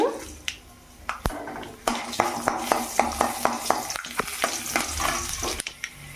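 Chana dal and mustard seeds frying in hot oil in a pan for semiya upma, giving a steady close sizzle with crackling pops and several sharp taps of a spoon against the pan.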